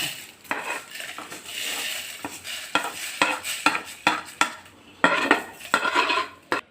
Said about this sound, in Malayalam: ഇത് എല്ലാം കൂടി ഞാൻ ഒന്ന് ക്രഷ് ചെയ്തെടുക്കാണ്.